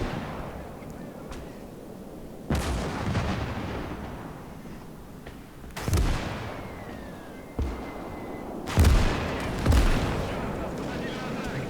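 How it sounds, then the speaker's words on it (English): In the World War II game Call to Arms: Gates of Hell, heavy artillery booms and anti-aircraft fire rumble in a dense battle din, with several loud blasts seconds apart over constant rolling noise and a voice speaking. "little hits are anti-aircraft, the big hits are artillery."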